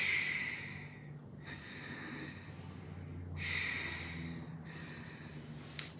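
Bhastrika breathing exercise: several long, forceful breaths rush audibly through the nose one after another, close and clear in a quiet room.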